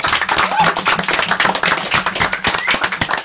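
Studio audience applause on a French TV show, dense continuous clapping from a crowd filling the whole moment at steady loudness.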